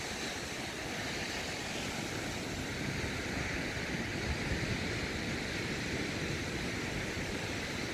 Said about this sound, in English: It's actually quite breezy.